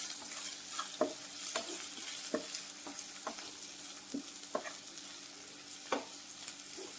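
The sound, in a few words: stirring spiced amaranth leaves and liver curry in a pan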